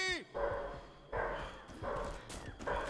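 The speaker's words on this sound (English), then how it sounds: "Stop barking!" A dog barks repeatedly in short bursts in a video game, fairly close, with brief pauses between barks.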